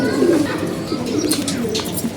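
Racing pigeons back home in the evening before feeding, giving low burbling coos over a busy background of chirps and shuffling, close and steady throughout.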